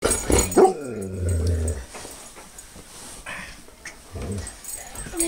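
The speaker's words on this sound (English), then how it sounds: "I got the dog here." A dog growls in a low rumble, alongside a few sharp barks and whimpers close by, and a few voices are heard faintly at the edges.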